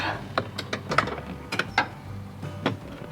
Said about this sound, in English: And taking these screws out,